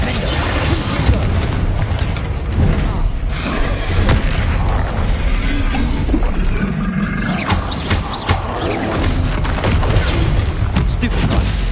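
Bombarda spell blasts in the Hogwarts Legacy video game during a troll fight, with booming explosions and crashing impacts over a dense, continuous game soundscape, loud throughout, while a voice casts spells.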